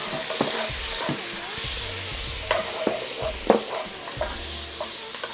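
Sliced peppers and onions hiss and sizzle steadily in a hot pan, with frequent clacks and scrapes as they are stirred, close and fairly loud throughout with no talking.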